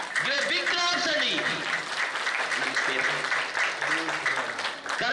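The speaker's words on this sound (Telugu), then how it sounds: "బిగ్ క్లాప్స్ అండి." Audience applause rings out at a yoga session, sustained clapping from a crowd lasting several seconds while someone speaks over it.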